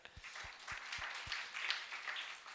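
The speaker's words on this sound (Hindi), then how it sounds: "बच्चे लोगों के लिए बड़े लोग ताली बजा" A group of people at a church service in Dungarpur claps together in steady, fairly faint applause, with a few soft low thumps underneath.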